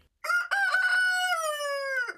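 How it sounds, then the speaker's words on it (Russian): A single rooster crows loudly and close by, one long drawn-out cock-a-doodle-doo that rises and holds before trailing off. "Петух ориентируется на внутренние биологические часы"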